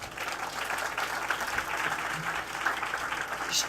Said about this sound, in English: You all give her a round of applause.